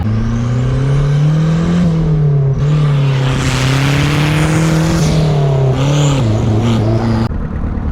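A turbocharged Nissan 240SX drift car runs and drives with a loud, close engine drone that rises and falls in pitch and briefly dips at shifts.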